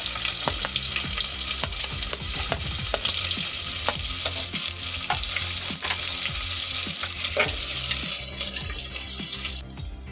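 Onions fry in hot oil with fennel, star anise, cinnamon, cloves and bay leaf, giving a steady loud sizzle with clinks of stirring and scraping throughout.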